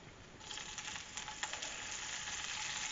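Scallions sautéing in a hot pan for an oyster stew give a steady, close sizzle with soft crackles and a few brief stirring clicks throughout, alone without talk.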